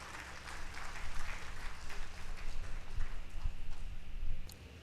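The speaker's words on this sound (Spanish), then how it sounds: "Lo recibimos con un fuerte aplauso" An audience at a public-sector directors' panel gives a strong round of applause to welcome a speaker, a dense wash of clapping that swells and holds before tapering off at the end.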